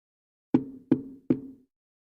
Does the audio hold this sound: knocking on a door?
yes